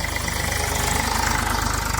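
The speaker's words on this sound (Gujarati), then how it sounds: "તો મિત્રો જો આવી રીતના ટ્રેક્ટરને રિવર્સમાં ફેરવવાનું હોય" A tractor engine runs loud and close as the tractor reverses over harvested mung bean plants to crush them, giving a steady rhythmic idling throb with heavy low vibration.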